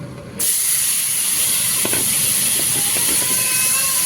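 Pointed gourd (potol) frying in a pan of oil: a sudden loud hiss as the pieces go in, then a steady, dense sizzle with small crackles and pops, no voices.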